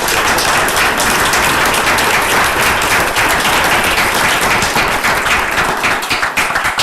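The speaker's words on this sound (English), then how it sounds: "some of these guys that are representing our team here deserve a round of applause for being the best" Loud, dense round of audience applause at a school district board meeting, continuous clapping throughout with no talk over it.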